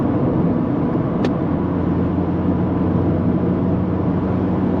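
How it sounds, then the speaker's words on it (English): Mazda MX-5 Miata fitted with uprated springs, driven hard on a twisty road, gives a steady, loud engine and road drone throughout, with one brief sharp tick partway in and no speech. "Let's give the car a little bit of a workout"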